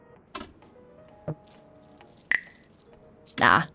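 Keys jangling in the video game Frequency Missing: a few short metallic clinks spaced apart, then a louder burst of rattling near the end, over quiet background.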